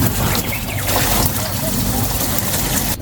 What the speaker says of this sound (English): I'm going to fill it now with water and let it soak for a few minutes.